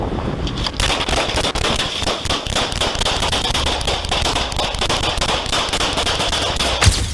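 Gunfire from a suspect shooting at a police officer during a police chase, a rapid run of sharp cracking shots over steady background noise, with one louder bang near the end.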